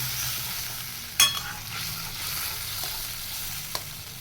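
A spoon stirs mustard and poppy seed paste into a sizzling pan, soft scraping over a steady low fry, with a sharp clack of utensil against the pan and a lighter tap later.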